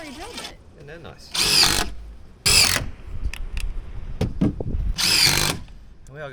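Three short bursts of a power drill whirring, each about a second long, separated by rustling, clicks and handling noises nearby.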